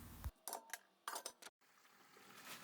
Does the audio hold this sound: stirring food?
yes